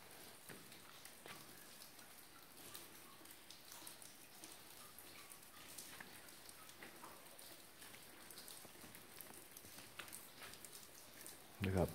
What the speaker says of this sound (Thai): น้ำหยดลงมา ครับอันนี้ไม่ได้ฝนตกก็หยดอย่างนี้นะครับ